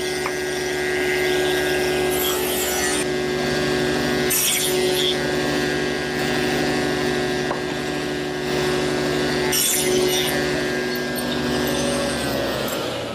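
A power saw with a stop block cuts tenons on wooden chair rails and stretchers, its motor whining steadily and loudly, with the pitch dipping briefly as repeated passes bite into the wood.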